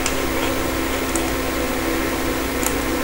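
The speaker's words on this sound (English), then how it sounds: "My mic is attached to my computer, and what you're hearing is my fan." A computer cooling fan hums steadily and close, picked up by a microphone attached to the computer, giving an unbroken broadband whir with a low tonal drone and no talk over it.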